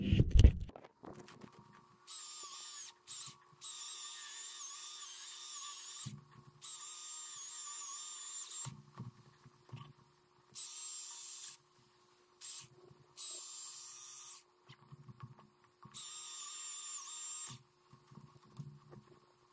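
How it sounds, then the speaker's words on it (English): A Stihl MSA-220C battery chainsaw cuts wood in repeated high-pitched whining bursts of a few seconds each, separated by short pauses, close and fairly loud with no talking. "rip out the old MSA-220C battery operated STIHL"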